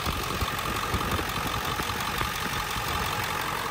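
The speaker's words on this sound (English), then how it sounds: "I've never heard it idle this smooth and this good" A Ford 7.3 diesel engine fitted with an HPX high pressure oil kit and fuel rail crossover kit idles steadily and smoothly, a continuous dense engine rumble close by with no talking.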